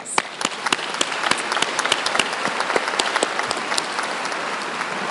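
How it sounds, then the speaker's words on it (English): A large crowd at a 2019 university convocation gives the graduates a dense, sustained round of applause, with crisp individual claps standing out against a steady roar of clapping for the whole stretch. "So let's give them a round of applause."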